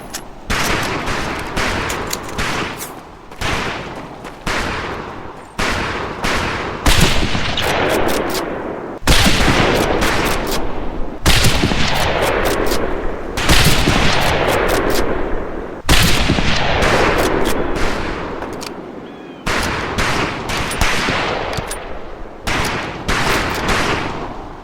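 Scoped rifle shots at long-range targets in the video game Medal of Honor: Pacific Assault: loud, sharp single reports fired one after another with brief ringing tails, spaced irregularly across the whole stretch.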